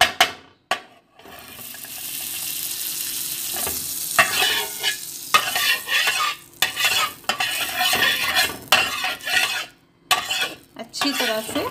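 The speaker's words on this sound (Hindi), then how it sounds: "अब हम तवे पे बहुत ही थोड़ा सा ये घी लगा लेंगे" Ghee sizzling on a hot tawa as it is spread around with a utensil, with repeated scraping and clinking strokes over a steady frying hiss.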